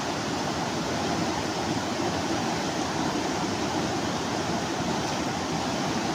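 Floodwater rushes in a steady, dense roar, a loud continuous wash with no breaks and no voices.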